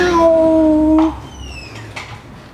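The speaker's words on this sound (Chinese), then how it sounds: "喵，小猫来了。" A cat at the entrance of a three-storey townhouse lets out a clear, tonal meow for about a second, followed by fainter, higher chirping calls in a quiet room.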